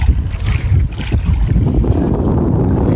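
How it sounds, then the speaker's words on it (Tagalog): Strong south wind buffets a small fishing boat out at sea, a steady roar of gusts and microphone rumble with water noise beneath, loud and continuous throughout. "Malakas na yung hangin. Katuda, timog yung hangin."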